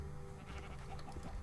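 Sheep bleating in a modded video game, a steady wavering animal cry that carries on through the whole stretch, with no talk over it.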